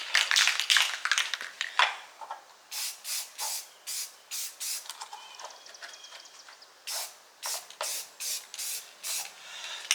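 Rust-Oleum spray paint hisses onto the deck of a Craftsman T3000 riding lawn mower in a string of short, even bursts, close and fairly quiet, with a longer irregular spray at the start.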